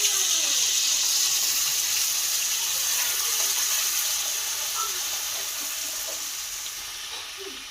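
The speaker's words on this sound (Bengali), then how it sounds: "জল দিয়ে দিলাম।" Water pours steadily into a pot of mutton leg nihari, a close, continuous gushing splash that slowly fades over several seconds.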